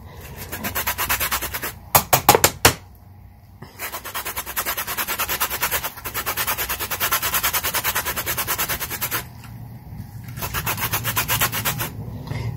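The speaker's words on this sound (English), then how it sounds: "I'm going to grind some lemon skin just to give it even more of a lemony zest." Lemon rind scraped over a grater for zest in a home kitchen: fast, steady rasping strokes in long runs broken by brief pauses, with a few sharp knocks near the start, close and fairly loud, no speech.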